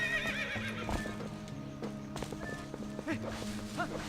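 A horse in The Legend of Zelda: Twilight Princess whinnies over a clip-clop of hooves, with a steady tonal game soundtrack underneath and a second neigh near the end.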